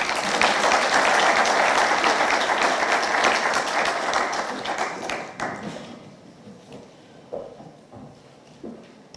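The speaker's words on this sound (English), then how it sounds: "Please let's appreciate Dr. Raymond Omollo one more time with a round of applause" Sustained applause from a large conference audience at the opening of a cybersecurity expo, loud and dense at first, then thinning out into scattered claps that trail off.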